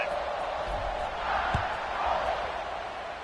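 Stadium crowd ambience during an Alabama versus Florida State matchup in College Football 26, a steady broad roar of many voices at moderate distance that swells slightly, with a single dull thump partway through.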